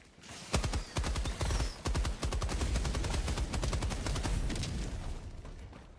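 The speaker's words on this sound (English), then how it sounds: "Requesting orbital. Orbital barrage incoming." An orbital barrage strike in Hunt Showdown pounds down as a rapid, dense series of sharp explosive impacts, loud and close, thinning out toward the end.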